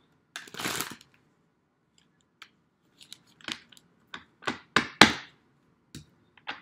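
Quick papery riffles and snaps of a tarot deck being shuffled and cut, coming in short bursts with pauses between, close and fairly quiet.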